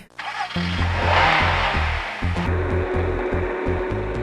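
Cartoon car engine starting and driving off, a loud rumbling putter with rhythmic low pulses, steady and close, over a whooshing noise layer and no talking.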